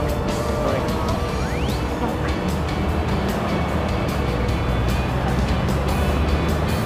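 Busy street traffic along Orchard Road in Singapore, a continuous dense wash of vehicle engines and passing cars, close and loud, with no clear talk over it.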